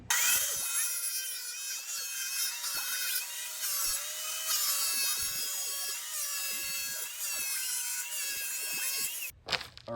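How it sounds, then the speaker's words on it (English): A power saw rips a plywood sheet in half for a truck loading ramp build, giving a loud, steady high whine that holds for about nine seconds before cutting off, with a brief clatter at the end. "we're going to start off by ripping this piece of plywood in half"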